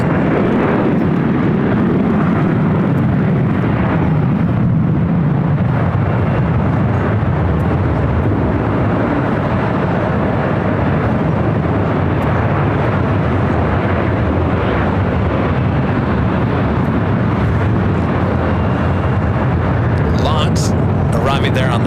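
An Embraer E-Jet airliner at LAX airport makes a loud, steady broadband roar of jet engines that persists throughout.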